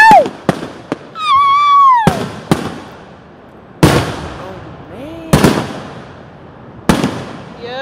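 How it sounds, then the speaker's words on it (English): Loud Fourth of July fireworks in Ridgewood burst in a series of sharp bangs, some preceded by rising whistles, spaced a second or so apart with crackling tails. "you missed the fireworks"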